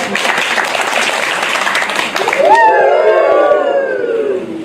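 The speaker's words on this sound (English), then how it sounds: "Can we applaud ourselves?" A summit audience applauds and cheers, dense clapping for about two seconds before a tonal musical or electronic sound rises and takes over, loud and close.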